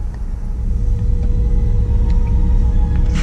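A 1961 Mercedes-Benz 190SL engine running on the move: a steady, loud, low rumble heard close from inside the car, with no voices.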